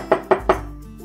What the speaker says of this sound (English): Next, let's mince the garlic.